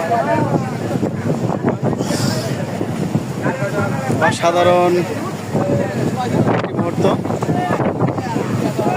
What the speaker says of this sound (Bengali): বৃষ্টি আসার আগ মুহূর্ত প্রচণ্ড বেগে বাতাস আসছে।